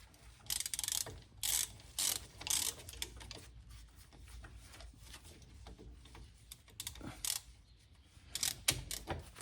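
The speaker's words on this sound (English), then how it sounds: "Take your 14mm socket." A ratchet turning a 14mm socket on the front brake of a 2016 Mazda CX-5, bursts of rapid close clicking in short irregular runs separated by brief quiet gaps, with no speech.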